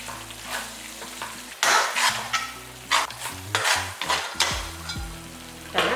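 Onions sautéing in a pot for chicken dum biryani, crackling sizzle punctuated by loud stirring scrapes and clanks of a spoon against the pot, close and alone, over a faint tonal background.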